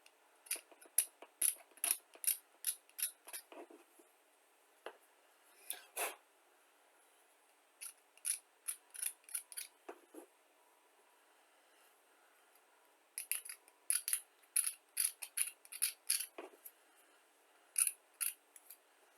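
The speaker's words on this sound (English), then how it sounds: "So I just take an X-Acto knife. That's what works best for me, and just scrape that right off." An X-Acto knife scraping mold flash off a small miniature figure makes close, crisp little scratching strokes in quick clusters, separated by short pauses of near silence.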